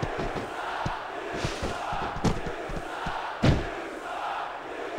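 A wrestling video game arena crowd roars and cheers in a continuous wash of noise, punctuated by scattered thuds and a couple of louder impacts.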